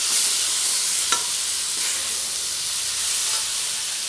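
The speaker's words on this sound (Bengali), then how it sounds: "একটু হালকা করে ভেজে নিয়ে আমি জল দিয়ে দেবো ভেন্ডিগুলো দিয়ে" Okra (ladies fingers) fries in spice masala, giving a loud, steady sizzle and hiss throughout, with one brief stirring clink.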